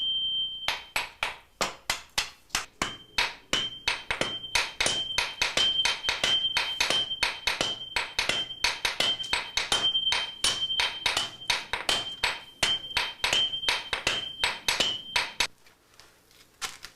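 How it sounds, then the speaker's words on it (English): A swordsmith's hammer strikes steel in a fast, steady rhythm, dozens of sharp ringing blows one after another, close and loud, then stops. "The commands of the swordsmith's hammer is all that is required."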